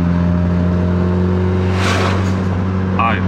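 A turbocharged 4AFE engine in a first-generation Toyota MR2 AW11 drones steadily while accelerating in third gear at half throttle, holding a loud, constant tone with a brief rush of turbo whoosh near the middle and a short chirp near the end.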